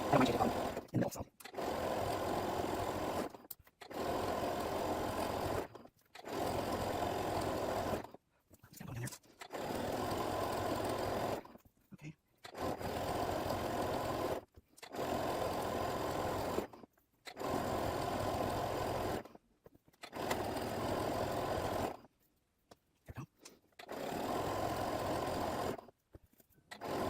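Sewing machine quilting a patchwork quarter square triangle block, running in repeated steady bursts of a few seconds each, separated by short pauses.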